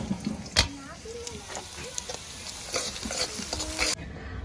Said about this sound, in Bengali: এই যে এখানে চুলাবট বাজিটা আমি লাকড়ি চুলাতে করে নিতেছি।